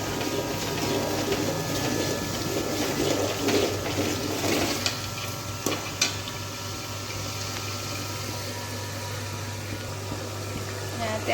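Water poured into hot oil for a sev tameta curry gives a steady rushing, bubbling boil with a constant low hum beneath, while a voice speaks intermittently over it.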